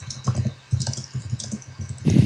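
Close typing on a computer keyboard, with quick uneven bursts of clicking keystrokes and short pauses between them. No voice is heard.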